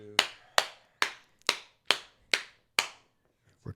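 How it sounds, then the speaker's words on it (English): Seven sharp hand claps from one or two people, evenly spaced about half a second apart, close to the microphone in a quiet room, with a faint knock at the end. "We're clapping like fools again."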